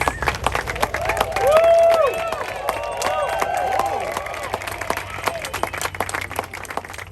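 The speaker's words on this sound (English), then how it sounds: "big applause." Steady applause from a wedding crowd for the newly married couple, many hands clapping continuously with scattered cheers and voices mixed in throughout.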